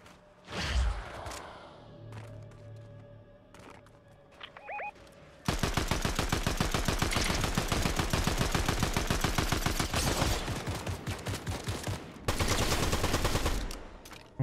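Rapid automatic gunfire from a low-recoil weapon in the Fortnite video game, after a few quiet seconds of scattered faint game sounds; loud sustained bursts with a brief pause near the end.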